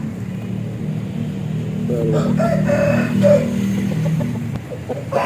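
A rooster from a farm of Thai fighting birds crows with a drawn-out, rising call in the middle, over a low steady rumble and background noise.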